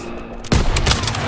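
A single loud gunshot cracks from a World War II firefight in the Call of Duty WWII game, followed by ringing battle noise and echoes.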